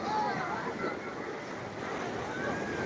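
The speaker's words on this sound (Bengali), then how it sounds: "মারাত্মক মারাত্মক ঢেউ আসছে" Rough sea surf rolls and crashes at Digha beach, a continuous broad roar of waves with wind noise, heard up close throughout.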